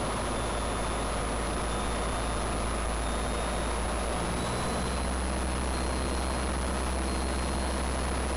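A light airplane engine drones steadily through a low pass at about 600 feet over a grass landing strip, a continuous loud hum with a constant high whine and a slight shift in tone partway through, with no talking.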